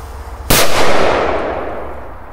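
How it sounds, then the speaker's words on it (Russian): A P2000 firecracker goes off with a single sharp, loud bang close by, preceded by faint background noise and followed by a decaying rumbling echo that fades over the next two seconds. "Есть отличный взрыв."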